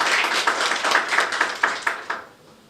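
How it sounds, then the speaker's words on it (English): Applause at a panel event on climate change, conflict and gender, a few people clapping in a clear rhythmic pattern that slows and fades out near the end. "Give them a big round of applause."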